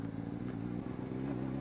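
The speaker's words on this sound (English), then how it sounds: "and now this is just engine power going." A Honda CBR600RR motorcycle engine running steadily in gear, a continuous low rumble with a faint clatter, even and unbroken throughout.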